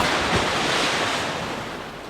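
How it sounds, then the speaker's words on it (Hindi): Sound effect of the sea after a car drops into deep water: a steady, loud wash of surf and rolling waves with a wind-like hiss, fading slightly toward the end. "गहरे समुद्र के ऊपर पहुंचकर शिकंजा खुला और कार समुद्र में जा गिरी।"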